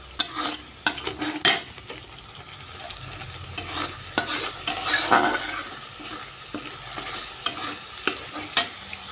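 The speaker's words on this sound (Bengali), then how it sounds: "এটা একটু ভাজা ভাজা করে নিই, তারপরে এর মধ্যে বেগুনটা ছেড়ে দেব" Spice paste fries in hot oil in a pan for a Bengali brinjal dish, with a steady close sizzle and repeated scraping stirs and clinks of a utensil against the pan, with no talking.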